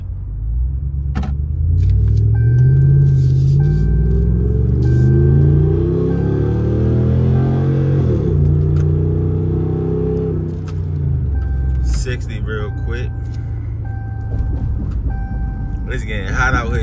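Engine of a 2017 RAM 2500 Big Horn HD pickup truck, a loud low rumble that rises and falls as it revs, with a chime sounding at intervals in the background.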